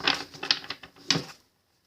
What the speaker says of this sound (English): Settle down and breathe while I shuffle these cards